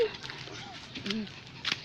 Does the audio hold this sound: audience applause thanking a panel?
no